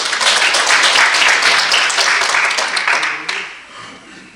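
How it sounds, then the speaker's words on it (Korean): An audience applauds at a Yun Dong-ju poetry recitation contest, a dense, steady clapping that fades out over about four seconds and ends with a few scattered claps. "여러분 박수로 응원드립니다."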